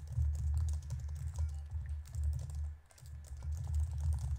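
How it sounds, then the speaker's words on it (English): Computer keyboard typing during a Terraria co-op game session, a steady run of close key clicks with a low hum underneath and no talking. "That typing, though."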